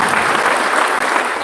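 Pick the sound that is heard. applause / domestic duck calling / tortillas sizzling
applause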